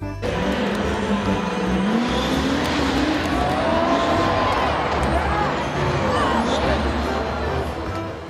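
A toy monster truck gives a continuous engine-like roar with rising whines and tire-squeal textures, loud and steady for the whole stretch, with a busy, crowd-like wash underneath.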